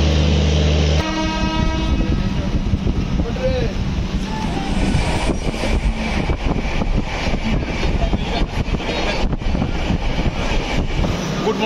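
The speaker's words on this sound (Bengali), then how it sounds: "ঘড়ির কাঁটায় 10টা 16 হতেই ট্রেন তার সঠিক টাইমে ছেড়ে দিল শিয়ালদা থেকে" A train pulls out of Sealdah station in Kolkata with a loud, close horn blast at the start, then steady rumbling and clattering of the rail cars, with people talking over the noise.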